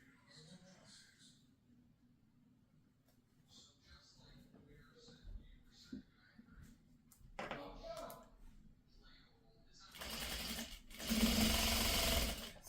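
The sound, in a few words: sewing machine stitching scrappy triangles together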